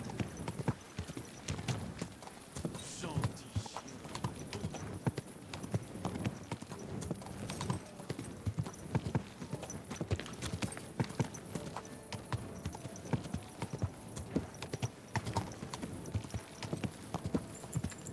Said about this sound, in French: Tout doux, bon cheval.